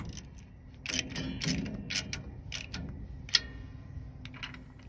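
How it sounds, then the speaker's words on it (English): Metal clicks and ratcheting ticks come from a wrench tightening a brake backing plate on a 1978 Dodge Power Wagon in a garage. Short, uneven bursts repeat close by, with one sharp click near the end. "we'll go ahead and get this backing plate tightened on here"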